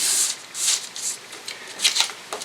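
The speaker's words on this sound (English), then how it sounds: "I'll apply the blue tape just like that" Blue masking tape being pulled and pressed onto a wooden part of a 5-octave folk harp under construction, heard as several close, soft tearing and rubbing strips with pauses between them, and no speech.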